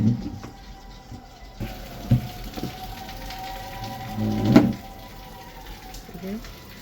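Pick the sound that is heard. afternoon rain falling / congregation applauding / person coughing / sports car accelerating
afternoon rain falling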